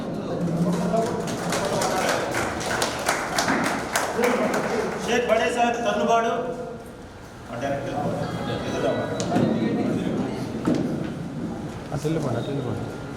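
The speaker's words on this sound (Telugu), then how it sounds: "ఒకసారి చప్పట్లు కొట్టండి" Audience clapping at a Congress party meeting, with scattered hand claps rising through the first half amid crowd noise, mixed with a voice speaking over a loudspeaker throughout.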